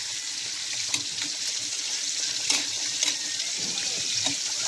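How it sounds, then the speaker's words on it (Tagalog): Fish-head soup of talakitok and lapu-lapu with sweet potato leaves at a steady, vigorous boil in a pot, giving a continuous bubbling, watery hiss with occasional louder pops, heard alone at moderate level. "Grabe kulo mga idol."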